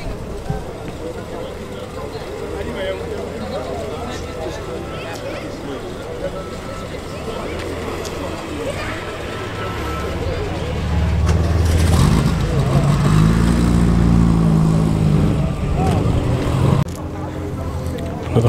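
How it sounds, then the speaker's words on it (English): A small Morris 1000 classic car, a late J-registration example, drives in at a classic car meet at a heritage centre, its engine growing louder and nearer midway over steady crowd babble, then easing off. "A little Morris 1000 coming in"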